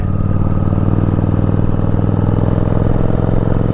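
A Yamaha Virago motorcycle engine idles steadily and smoothly close by, a constant low throbbing rumble with even mechanical clatter and no sputtering, with no talking.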